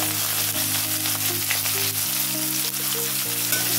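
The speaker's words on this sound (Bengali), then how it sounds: "রসুনটা একটু ভেজে নেব" Garlic and nigella seeds fry in hot oil for a greens dish, making a steady, dense sizzle that runs without pause under a faint low hum, with no voices.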